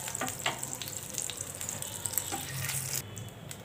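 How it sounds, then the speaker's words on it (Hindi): Black cumin seeds tempering in hot oil for a Bengali rohu fish curry, giving a steady close sizzle with light scattered crackles and a few utensil clicks. "कालो जीरे फोड़नटा दिए दिलाम"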